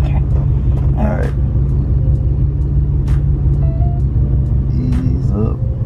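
The engine of a Ford Mustang Cobra idles and rumbles steadily and close from inside the car as a new driver works the gas, while people talk over it.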